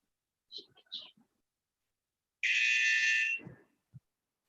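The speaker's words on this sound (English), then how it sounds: "So we'll start with the buzzer" A buzzer sounds once to open a presentation at the GERICON 2021 e-paper session, a loud steady tone lasting about a second, preceded by brief soft voices and followed by a short click.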